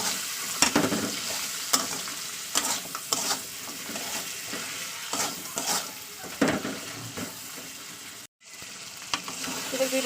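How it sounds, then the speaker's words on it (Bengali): Ginger garlic paste is stirred into hot oil for a fish head curry with red amaranth greens, giving a loud continuous sizzle broken by repeated scraping and clacking of a spatula in the pan, with one brief dropout. "আদা রসুন পেস্ট করেছি সেটাকে দিয়ে দিচ্ছি এটাকে আমি ভালো করে তেলের সঙ্গে মিশিয়ে দেবো"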